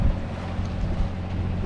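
A sailboat's motor hums steadily while rounding Fort Boyard off Oléron, its low drone mixed with wind buffeting the microphone and the wash of water, with no talking.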